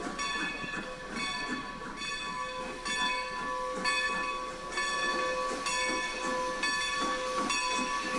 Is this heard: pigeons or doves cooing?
no